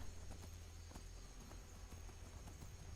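Quiet, regular clip-clop of horse hooves walking at an even pace in the video game Skyrim, faint and steady over a low background hum.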